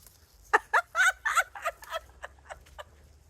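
A quick burst of gobbling, clucking chicken calls, loud at first and then trailing off into softer, scattered clucks.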